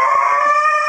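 A human voice imitates a husky howling: one sustained, loud, close howl with a steady tone that rises slightly partway through, alone without other sounds.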